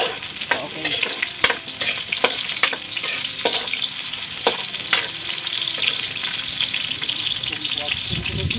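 Onions sizzle and fry steadily in a hot pan for chicken tinola, a continuous crackling hiss broken by sharp stirring scrapes and clinks throughout.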